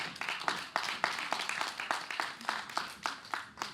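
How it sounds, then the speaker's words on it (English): An audience claps for a young contestant at a children's spelling bee, a moderate, fairly quiet round of hand claps with a steady rhythm throughout. "Everybody give Orlando a round of applause."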